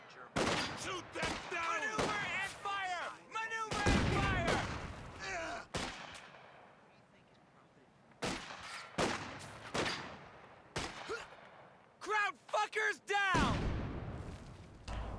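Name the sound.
artillery and grenade fire in video game Company of Heroes 2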